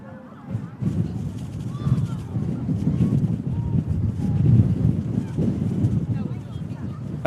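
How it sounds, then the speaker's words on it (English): Strong crosswind at a Manchester Airport plane-spotting spot buffets the microphone in a steady, loud low rumble with gusty swells, a voice faintly underneath. "just the wind constantly on my face"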